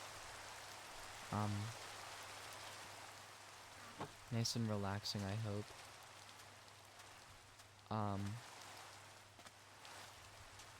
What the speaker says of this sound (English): And it is indeed raining, everybody.